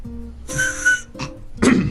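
A man whistles alone, a sustained clear tone followed by a short chirp and a breathier blast, close and moderately loud.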